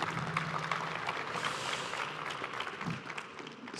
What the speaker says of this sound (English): could we get a warm round of applause for Jordi